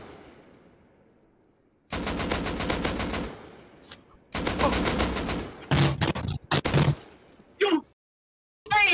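Rapid automatic AK rifle gunfire in the video game Rust, loud bursts of repeated shots in long volleys followed by shorter scattered bangs and brief gaps.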